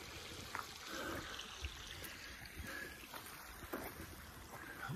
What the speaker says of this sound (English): Beautiful creek, still running well.